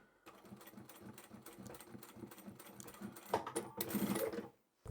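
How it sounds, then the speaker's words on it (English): Close sewing machine stitching, quiet and uneven, sewing the folded-open seam edges of a small zippered pouch. It runs in short rhythmic bursts for a few seconds, then cuts off abruptly. "place the open edges under your foot, and just sew it in place."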